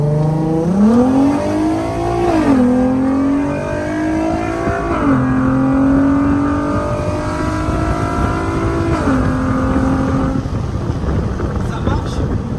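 A car engine revs hard and loud through a slightly opened window, its pitch climbing and falling across several long pulls with a steady rumble beneath.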